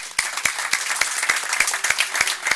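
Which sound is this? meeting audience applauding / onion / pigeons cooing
meeting audience applauding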